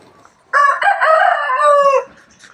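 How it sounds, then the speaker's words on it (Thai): A rooster crows once, loud and close, a single drawn-out call of about one and a half seconds that stands alone against a quiet outdoor background at a Buddhist temple in Chae Hom, Lampang. "ไก่ขันโอ๊บโอ๊บโอ๊บโอ๊บ"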